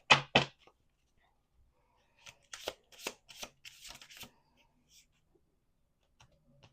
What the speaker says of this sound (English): Let's do 1 more shuffle.